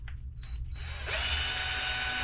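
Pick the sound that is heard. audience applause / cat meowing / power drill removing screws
power drill removing screws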